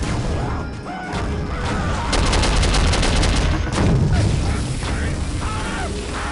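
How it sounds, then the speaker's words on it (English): Heavy machine gun fire in the PC shooter Soldier of Fortune, dense and loud bursts layered with mechanical clatter and crashing impacts that run for the full stretch. "I also enjoyed using the heavy machine gun, which can not only be used to mow foes down, but also launch white phosphorus grenades"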